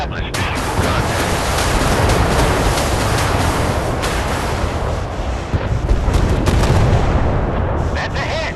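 Warship guns fire in the naval combat game Force of Warships, a dense, continuous barrage of booming cannon blasts and rumbling explosions that stays loud throughout.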